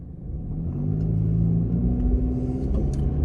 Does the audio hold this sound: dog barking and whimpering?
no